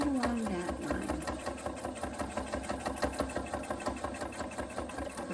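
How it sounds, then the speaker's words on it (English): A sewing machine stitches steadily along a marked diagonal line on a quilt, a fast, even mechanical whir with rapid rhythmic needle clatter running close and continuous for several seconds. "Back off the material and sew right along that line."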